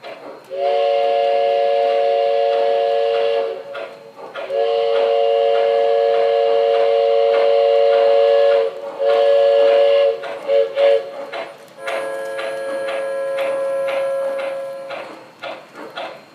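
O gauge model steam train on a layout under construction, its multi-tone whistle sounding in long, steady blasts with short breaks, over the faint running hum of the train, loud and close, with no talk.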